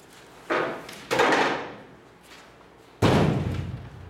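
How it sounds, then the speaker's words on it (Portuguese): A chair is shaken and knocked around, giving several loud wooden thumps and scraping rattles in bursts with short pauses between, close and unaccompanied by talk. "primeiro quem sacudiu foi a cadeira"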